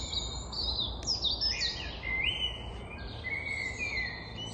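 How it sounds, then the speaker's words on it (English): Several birds chirp and trill in quick high bursts over a steady low outdoor rumble, their calls fairly faint and distant with no voices. "the sounds of the birds,"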